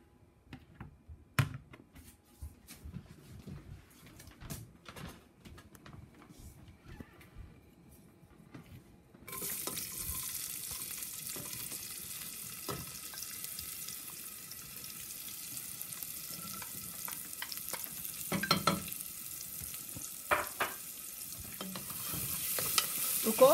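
Chopped onion fries and is stirred in a pan as the start of a shrimp pasta sauce, with soft sizzling and scraping clicks that grow into a louder, steady sizzle partway through, no talking.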